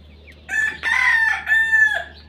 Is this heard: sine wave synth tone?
no